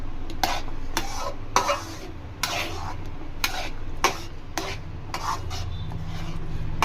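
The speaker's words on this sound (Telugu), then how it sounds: "మీడియం ఫ్లేమ్ పెట్టుకుంటా బాగా కలుపుకుంటానే ఉండండి ఫ్రెండ్స్" Tomato bath being stirred in a pan over a medium flame: a spoon scrapes the pan in repeated, fairly regular strokes about every half second over a low steady cooking hiss, with no talking.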